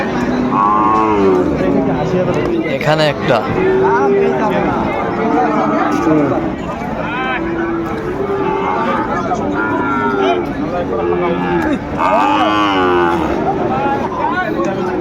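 Sahiwal cattle moo repeatedly at a busy livestock market in Dinajpur, several long, loud calls rising over a crowd's chatter and nearby talking.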